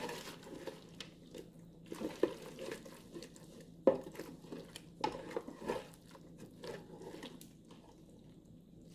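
Baked macaroni and cheese stirred in a pan in a Ninja Speedi cooker, with faint, irregular sticky squishes and light scrapes of the utensil, quiet and close.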